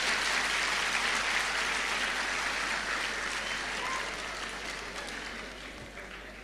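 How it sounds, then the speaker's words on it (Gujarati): Thunderous applause from a large audience as a speaker is welcomed onto the stage: loud, continuous clapping that holds steady, then gradually fades toward the end. "જોરદાર તાળીઓના ગડગડાટથી સાહેબને સ્ટેજ પર આવકારીએ"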